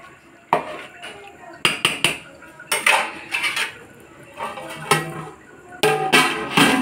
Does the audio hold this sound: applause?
no